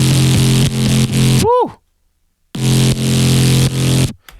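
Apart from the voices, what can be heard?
synth bass through Softube Amp guitar amp emulator in Ableton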